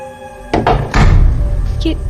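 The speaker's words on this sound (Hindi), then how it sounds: "ये दरवाजा कैसे बंद हो गया? वो भी अपने आप?" A door swings shut on its own inside a house, landing as one heavy thud about half a second in, then a second muffled bump and a lingering low rumble.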